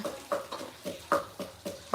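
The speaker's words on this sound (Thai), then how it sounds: "นี่เสียงตำสุดยอดเลย" Steady rhythmic pounding of a pestle in a mortar, about four dull knocks per second, close by and fairly quiet with no talking.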